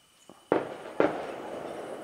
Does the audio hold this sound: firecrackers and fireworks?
yes